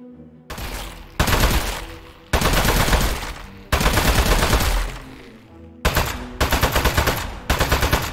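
Rapid bursts of gunfire from a player shooting at a clay boss in the video game Aperture Desk Job, loud and close, coming in several repeated volleys separated by short gaps.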